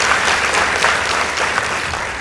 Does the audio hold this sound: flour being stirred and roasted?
no